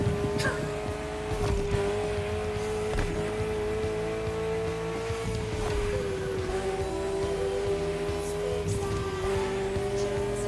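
Ferrari supercar in The Crew Motorfest, a steady, thin, high-pitched engine whine that holds level and dips slightly. Scattered tire squeals and skids cut through it, heard close and continuous.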